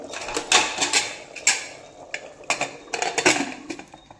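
Sharp metallic clanks and clinks of a pressure cooker lid being fitted and pressed shut over vegetable pulao, several distinct knocks in quick, uneven succession, close by.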